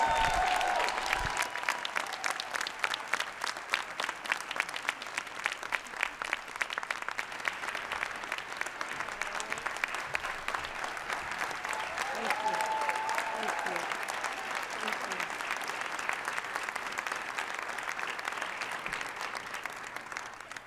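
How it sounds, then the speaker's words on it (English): An audience applauding the mayor of Tacoma, Washington at a Dr. Martin Luther King Jr. birthday celebration, a steady, sustained round of clapping that holds at a moderate level throughout. "Round of applause, please."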